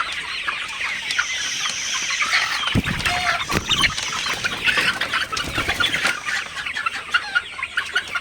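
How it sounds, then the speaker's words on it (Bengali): A flock of Sonali hybrid chickens, fifty days old, clucking and chattering together at evening, a dense, busy layer of overlapping calls with a few louder nearby bursts and no voices. "আপনারা দেখতে পাচ্ছেন আমার সোনালি মুরগিগুলা মাসাল্লাহ খুবই ভালো আছে"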